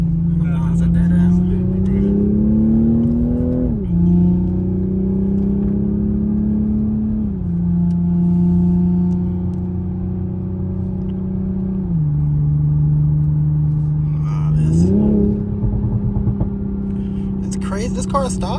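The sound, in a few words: Toyota Supra engine revving and exhaust popping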